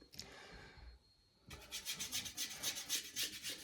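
A brush scrubs dark blue oil paint onto canvas for a seascape sky with quick, rhythmic rasping strokes. The strokes are close and dry, and a short pause comes before a faster burst.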